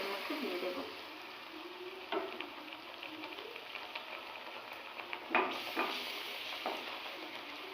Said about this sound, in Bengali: এবার এর জন্য ব্যাটারটা আস্তে আস্তে তেলের মধ্যে দিয়ে দেব।